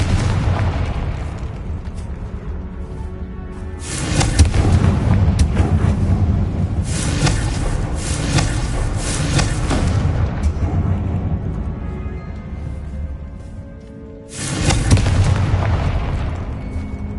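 Repeated Confringo spell blasts from a video game boom loudly in bursts of about two seconds and a longer stretch, each a broad roaring explosion with rumbling tails between them.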